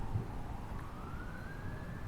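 Within a video game city soundscape, a distant siren climbs slowly in pitch across a constant bed of low traffic and street rumble, moderately loud and unbroken, with no speech.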